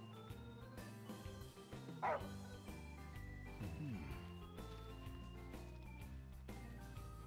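The dog Umbra in Final Fantasy 15 barks and yips over steady game music, its short, fairly close barks coming in a few quick bursts.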